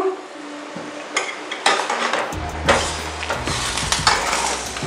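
A utensil scrapes and clinks in a small wok while fried potatoes are stirred into chicken curry, repeated scraping strokes over a low sizzle, close and fairly loud.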